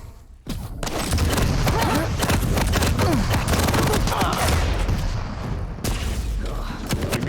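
Rapid rocket explosions and gunfire in the Quake Champions arena shooter during a competitive duel, a dense, loud barrage of booms and thuds that keeps going for several seconds after a brief lull, with a commentator's voice faintly mixed in.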